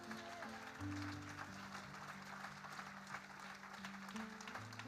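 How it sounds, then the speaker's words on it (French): A church congregation applauds during a sermon, a steady wash of clapping that runs the full length, with sustained musical tones beneath it. "Applaudissons l'Éternel."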